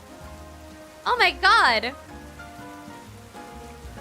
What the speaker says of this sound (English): It took like 2 seconds and it started to rain!